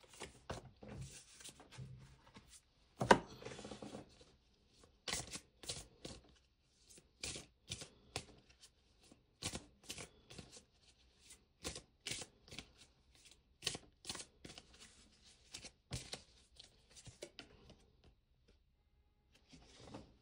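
Tarot cards are shuffled close up for a reading in a quiet room, with a long run of soft riffling and sharp snapping taps at irregular intervals, some louder than others, and no voice.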